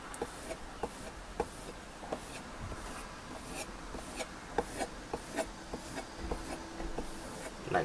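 A knife blade drawn repeatedly across a leather strop, producing a steady series of soft, close scraping strokes at an even rhythm with light rubbing between them, and no talking.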